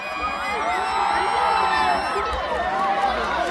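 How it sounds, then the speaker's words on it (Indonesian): A large crowd at a concert in Makassar in 2024 cheers and whoops steadily in a big, reverberant space, the roar sustained and loud with shrill voices rising over it. "Tepuk tangan untuk"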